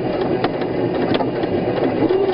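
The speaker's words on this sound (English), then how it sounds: "So you are going to back stitch, but we're going to keep it even, just as if it was an edge stitch" Sewing machine back stitching a tote bag handle, a steady close mechanical whirr with faint rhythmic ticks running throughout.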